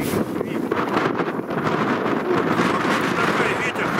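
Strong cold wind at the Ruza Reservoir during a spring fishing trip buffets the microphone with a steady, loud roar and rumble, continuous for the whole stretch with no pauses.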